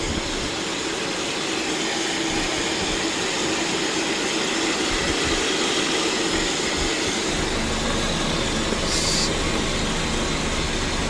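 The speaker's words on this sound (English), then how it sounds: "The noise is coming from the tensioner." A car engine with a noisy belt tensioner runs steadily close by, a dense continuous mechanical whir and hum with a fan blowing, and no one speaks.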